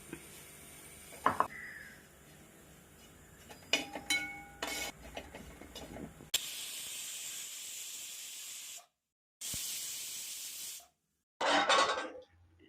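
Steam bursts from a pressure cooker used to cook duck roast, hissing loudly in three long blasts separated by sudden silences, after a stretch of quieter kitchen clinks and knocks.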